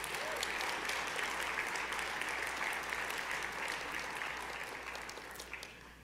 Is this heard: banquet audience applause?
yes